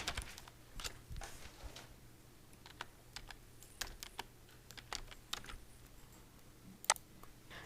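Python code being typed on a computer keyboard, a quiet, steady patter of key clicks with irregular bursts and one sharper tap near the end, alone with no talking.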